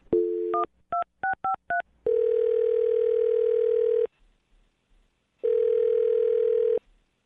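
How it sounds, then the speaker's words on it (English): A telephone number is dialed on a touch-tone keypad, giving a quick series of short beeping tones followed by two long, steady ringing tones with a brief pause between them, clear and close with no voices. "I'm going to dial her phone number right now"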